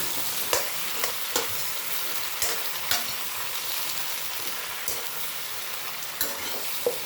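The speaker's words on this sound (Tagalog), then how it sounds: "Ayan, haluin lang natin." Vegetables sautéing in a pan without meat crackle with a continuous sizzle, broken by a series of sharp spoon scrapes and clacks against the pan at uneven intervals, close and without talk.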